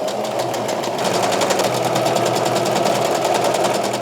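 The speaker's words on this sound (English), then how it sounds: "I'm just going to do a straight stitch to join them." A sewing machine runs a continuous straight stitch joining two fabric panels of a ruffle skirt, its rapid even needle rhythm loud and close with no pauses.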